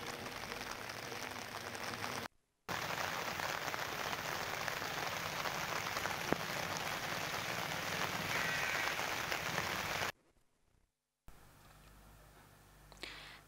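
Heavy rain falls as a steady, even hiss of moderate loudness for several seconds, then cuts off to near silence, with a short gap partway through and no speech over it.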